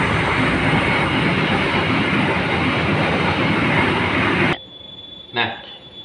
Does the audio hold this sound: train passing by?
yes